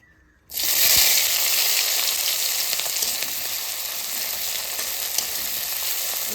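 Chopped tomato, onion, chilli and garlic hit hot oil with a sudden burst, then settle into a steady, loud, hissing sizzle that fills the rest of the clip, close up with no voices.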